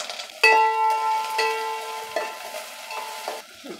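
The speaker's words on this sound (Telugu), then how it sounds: "ఆవాలు వేగిని ఎర్రగడ్డ వేసుకోవాలి." Mustard seeds and onion frying in a home kitchen pan for a beerakaya chicken dish, with soft sizzling under several sharp clanks of a metal spoon on the pan and faint ringing tones.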